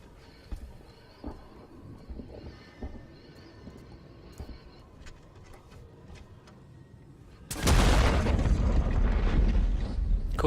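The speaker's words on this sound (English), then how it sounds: "Cool guys don't look at explosions." A sudden, loud explosion erupts in the video game Alien Isolation, a sustained roaring blast that abruptly follows several seconds of quiet ambient game sounds and faint ticks.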